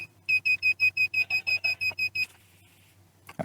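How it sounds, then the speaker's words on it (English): An RC transmitter's failsafe buzzer gives a rapid series of about twelve identical high electronic beeps in a steady rhythm, fairly loud and close, then stops, followed by faint handling noise. "That failsafe buzzer isn't too annoying, is it?"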